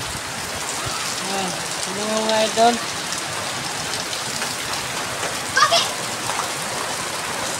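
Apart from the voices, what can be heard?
heavy rain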